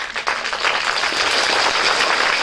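Clapping from a motivational seminar crowd starts after a short dip and swells into a continuous, full round of applause lasting a couple of seconds.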